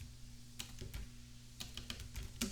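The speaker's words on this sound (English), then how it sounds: "So here we type in the grant" Computer keyboard keys tap in a few quick, soft bursts, close by against a low steady hum, no voice.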